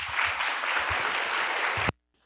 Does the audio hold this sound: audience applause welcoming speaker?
yes